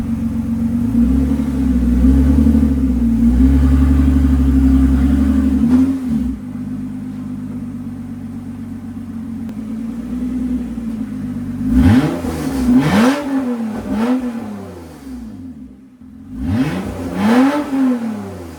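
A Toyota/Lexus 2GR-FE V6 engine with only the Y-pipe on the exhaust manifolds idles with a deep, steady rumble, then revs hard several times in sharp bursts that rise and fall, loud and close.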